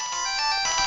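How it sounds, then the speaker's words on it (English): Telephone ringtone playing, a bright, steady electronic melody with clear tones, loud and close for just under a second, no voices over it. "Phone's ringing."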